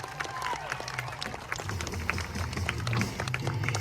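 An outdoor audience at the Toronto Exhibition applauds skateboard performers after their live show, a steady dense patter of clapping from a nearby crowd lasting the whole stretch.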